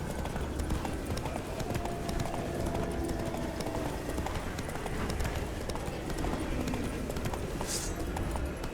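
Roach, Geralt's horse in The Witcher 3, gallops with steady rapid hoof clip-clops throughout, close and loud over continuous game ambience.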